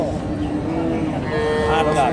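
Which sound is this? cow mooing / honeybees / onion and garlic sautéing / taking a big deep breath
cow mooing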